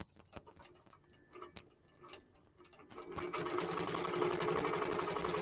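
A QBOT computerized quilting machine stitches a quilt: a few scattered ticks and clicks, then a steady, rapid mechanical chatter of the needle that stays loud and even, close by with no voices.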